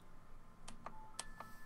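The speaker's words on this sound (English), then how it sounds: "My phone is telling me I'm now live on Hitbox." A very faint, brief run of short electronic chimes from a phone alert, with a few quick tones spaced over about a second against quiet room noise and no voices.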